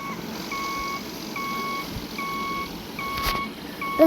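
A bus's reversing alarm beeps steadily in a video game, about five evenly spaced tones over a low engine rumble, with no one speaking.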